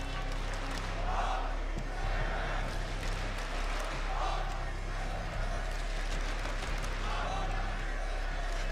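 Esports arena crowd at a Counter-Strike IEM Atlanta quarter-final between NAVI and Vitality, a steady roar of cheering with swells every couple of seconds, loud and continuous under commentary-style talk.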